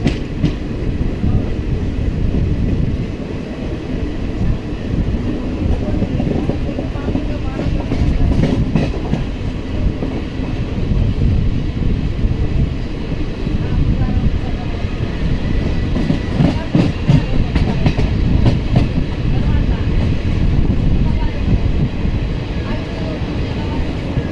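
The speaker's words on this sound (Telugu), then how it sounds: "ట్రైన్ బుగ్గనపల్లి సిమెంట్ నగర్ నుంచి అయితే డిపార్ట్స్ అవుతుంది" Loud, continuous rumble of a train departing Bugganapalli Cement Nagar station, rolling along the tracks with rhythmic clicking of wheels over rail joints, close by and sustained.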